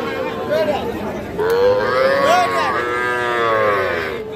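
Sahiwal heifer calves and cattle at a rainy-day livestock market in Aftabganj low and moo in long, drawn-out calls, close by, over a background of crowd chatter and bargaining voices.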